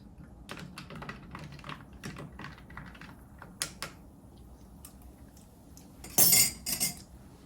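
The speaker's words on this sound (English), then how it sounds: "Let's give it a stir." A Tequila Colagallo cocktail with salt stirred in a glass, giving rapid light clinks and taps of a spoon, then a louder cluster of ringing clinks near the end.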